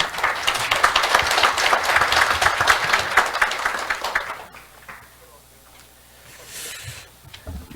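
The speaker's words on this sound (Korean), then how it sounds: "큰 박수로 환영해 주시기 바랍니다" An audience at a public environmental education lecture claps to welcome a university history professor, dense loud applause lasting about four seconds before fading to near quiet, with a faint sound afterward.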